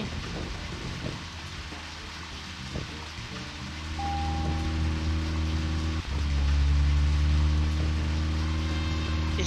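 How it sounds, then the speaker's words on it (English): Steady rain falls in the Deadly Premonition video game, a soft even hiss over a low droning hum that grows slightly louder partway through. "it started raining."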